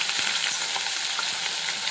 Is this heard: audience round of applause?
no